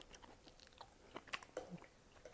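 Close, quiet bites and crunchy chewing of a rice cake eaten with nuts, made up of small irregular crackles and munches spread across a couple of seconds with no talking.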